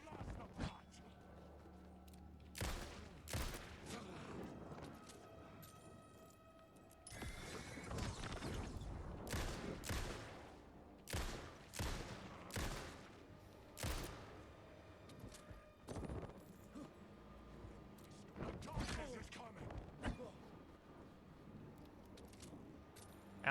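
Gunshots from the player's weapon in Alan Wake II, a string of sharp, loud reports fired at irregular intervals over game ambience and mechanical clatter, with a voice talking in between.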